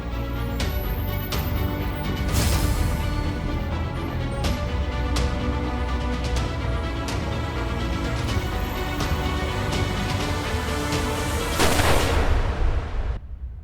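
Rapid, loud gunfire crackles continuously in a TV crime drama scene, dense overlapping shots with heavier booms near the start and end, no voices.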